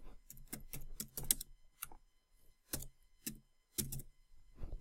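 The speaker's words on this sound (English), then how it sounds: "I'm going to type my name." Keys on a computer keyboard are tapped in quick bursts of crisp, close clicks, with brief pauses between short runs of typing.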